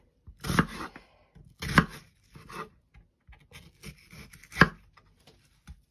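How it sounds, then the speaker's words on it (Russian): A knife chops onion finely on a board, a handful of sharp, separated thuds with gaps between, close and clear with a quiet background. "Так, а я пока лук режу,"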